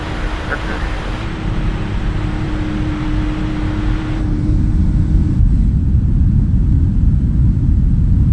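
Boeing 777 engines in Microsoft Flight Simulator 2024 give a steady, loud low rumble and broad roar throughout, with a faint whine that fades midway and a deeper drone after.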